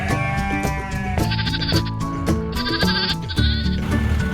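Sheep bleat loudly and close by in a farm enclosure, their wavering calls overlapping and repeating rhythmically with brief pauses between cries and no voices present.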